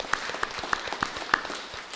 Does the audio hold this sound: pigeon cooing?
no